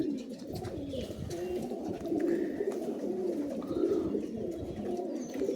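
Allahabad Kaldam pigeons, tumbler birds kept at a home loft, coo in low, throaty bursts that repeat and overlap, close and moderately loud with no talk.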